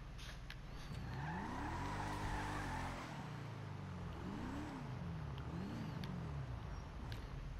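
Engine of a car in GTA 5 driving steadily, with harmonic revs that rise and fall through gear changes over a constant loud drone and no speech.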